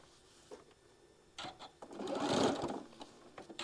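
A sewing machine makes a couple of anchoring stitches on a seam, heard as a few short, quiet whirring bursts with small gaps, then one longer, louder run before it trails off.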